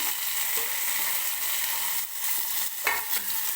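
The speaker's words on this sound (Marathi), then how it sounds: "कांदा भाजतोय तोपर्यंत आता मी याच्यामध्ये टोमॅटो टाकून घेते" Onion and chopped tomato frying in a hot pan, a loud, continuous sizzle broken by short scraping stirs.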